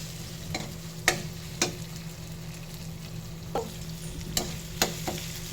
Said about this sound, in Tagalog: Ginisa ko muna yung chorizo.